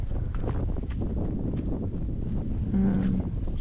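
Gusty wind buffets the microphone steadily at Shakespear Regional Park in Auckland, a broad rushing roar with scattered rustling and no talking.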